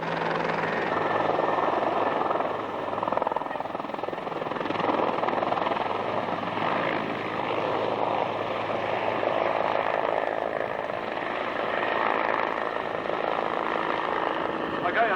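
Aircraft landing and taxiing at the 1986 Cooma airshow, a steady, loud rotor and engine drone holding from start to finish with little change.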